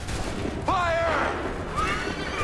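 A musket volley fired by a line of soldiers in Assassin's Creed 3, a single sharp crackling burst, with a horse's whinny rising over it and shouted commands around the shot.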